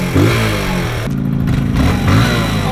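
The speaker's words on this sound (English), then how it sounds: "This is Maverick learning how to wheel" A motorcycle engine revs hard and close while a rider practises wheelies, a loud rising and falling roar with a brief throttle dip in the middle.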